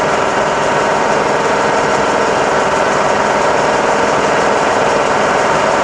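A milling machine's power feed runs in a continuous, even mechanical whine with a motor hum underneath, steady and close with no breaks.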